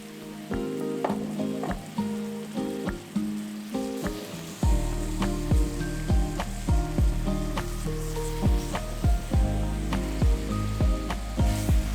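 Tofu puffs with spices and other ingredients sizzle loudly in a hot pan, a dense crackling fry with repeated scraping stirs and clinks throughout, close and with no voices.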